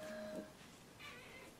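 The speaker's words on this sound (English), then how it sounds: "My latest cat." A cat meows faintly indoors, a short tonal call followed by a second softer one, quiet and close.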